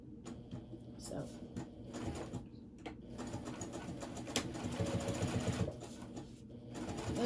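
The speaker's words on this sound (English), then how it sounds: "because I'm sewing on the zipper foot" Domestic sewing machine fitted with a zipper foot stitching the lining of a cross-body bag, running in bursts of rapid mechanical whirring with short pauses, close by, alongside faint background bird cooing.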